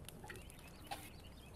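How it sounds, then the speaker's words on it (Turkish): Quiet forest ambience in the video game The Forest, with a few short, faint bird calls scattered over a low steady background hum. "biraz sakin kafayla kuş seslerini dinleyelim."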